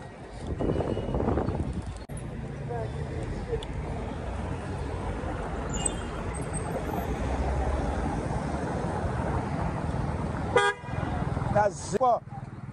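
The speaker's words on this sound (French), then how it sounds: "est-ce que tu es obligé de klaxonner?" A car horn gives a couple of short toots near the end, heard over steady street traffic noise and people talking.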